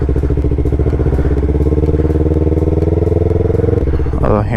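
A 2019 Yamaha R3 streetfighter with an M4 full exhaust idles loud and close, a steady throbbing burble that shifts slightly in pitch before a brief clatter at the end.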